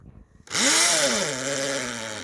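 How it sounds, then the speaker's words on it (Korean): A power drill bores holes into a mulberry log to take oyster mushroom spawn, starting abruptly with a loud, steady whine that holds close and continuous, its pitch dipping slightly as the bit bites into the wood. "드릴을 뚫고 있네요."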